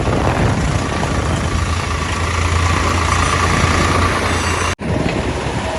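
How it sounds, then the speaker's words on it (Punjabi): Loud, steady low rumble of a Swaraj tractor engine running nearby at night in rain, continuous throughout with a brief cut near the end. "ਇਧਰ ਵੀ ਚੱਲ ਰਿਹਾ ਟਰੈਕਟਰ"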